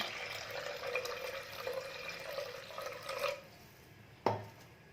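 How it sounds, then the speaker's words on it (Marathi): Water poured into a bowl of moong dal lentils seasoned with salt and turmeric, a steady splashing pour for about three seconds, then a single sharp clink of the bowl before quiet. "आणि थोडंसं पाणी ओतून घ्यायचं आहे"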